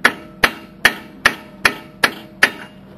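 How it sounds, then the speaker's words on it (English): Hammer blows driving an Allen socket into a brake caliper bolt to loosen it, seven sharp metallic strikes at a steady, even pace, close and loud with no talk. "you're going to need yourself an Allen socket and then hammer it in there."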